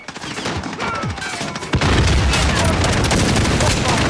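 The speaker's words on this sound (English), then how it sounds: "friendly precision airstrike inbound" Airstrike explosions in Call of Duty: Modern Warfare, a dense run of gunfire-like bursts that swells into a heavy, sustained rumbling barrage after a sharp blast midway, loud and close, with voices faintly underneath.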